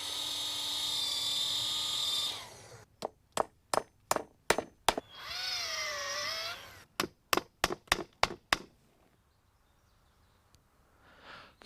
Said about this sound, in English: so it has to be drilled.